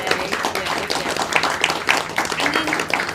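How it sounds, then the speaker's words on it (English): A small theatre audience after a show at Above the Stag Theatre in London gives the cast a round of applause, steady close-up hand clapping with distinct individual claps throughout. "can we just have a little round of applause for all of you?"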